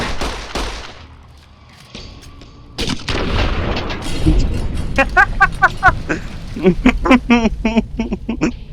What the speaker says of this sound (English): I shot it through the floorboards and killed him.